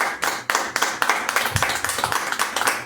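A church congregation clapping together in a rhythmic, steady beat, many hands close and lively for the whole stretch.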